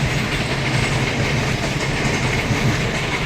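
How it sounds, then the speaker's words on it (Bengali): A train rolls into a Mumbai station, a loud continuous rumble of wheels and carriages with clickety-clack close by, no voices. "দেখুন ট্রেন আসছে"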